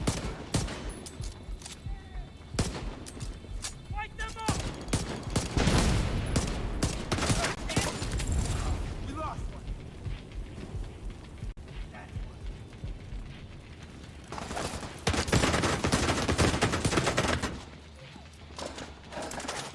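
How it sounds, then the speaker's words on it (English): Enemy gunfire in the shooter game The Division 2: dense, continuous volleys of rapid shots and heavy bursts across the whole stretch, loud and close, with someone talking intermittently over the combat. "Ah, they're shooting from over there."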